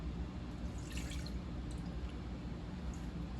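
Half a cup of cold water is poured into a larger pot of cauliflower for chowder, giving a close, steady splashing and trickling with a few brighter drips.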